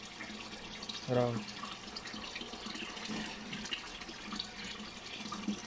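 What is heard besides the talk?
running water flowing in a goldfish tank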